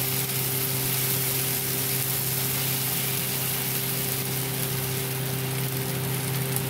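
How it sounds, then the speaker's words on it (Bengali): Okra (lady's finger) fries in a pan with a constant, even hiss of sizzling oil and a low steady hum beneath, with no voices. "এবার এবার ঢ্যাঁড়স ভাজা করছি বন্ধুরা।"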